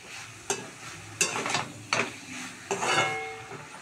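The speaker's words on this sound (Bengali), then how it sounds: "এবার এটাকে দিয়ে ভালো করে একটু করে বেশি করে নাড়াচাড়া করে কষিয়ে" Okra frying with prawns, coconut, mustard and poppy seed paste, stirred in a pan in four or five distinct scraping strokes, each a bright rasp over a soft sizzle, close and clear with no talking.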